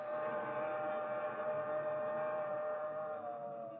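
A fast southbound express train approaches in a 1950 radio drama. A loud, sustained train whistle blares steadily for several seconds and fades slightly at the end, with no talking.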